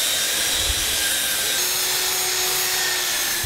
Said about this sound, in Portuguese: A lixadeira entra em ação.